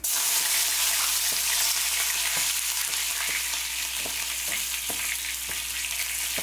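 Curry leaves frying in hot oil with roasted coconut and peanuts, a loud, steady crackling sizzle with regular stirring scrapes and clicks throughout, close up and with no talk.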